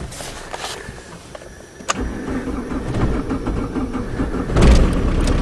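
A diesel caravan engine cranks and catches after its injector pump is hand-primed, a sharp start near two seconds followed by a steady, rough idle that rises slightly in loudness toward the end.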